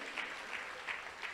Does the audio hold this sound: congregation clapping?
yes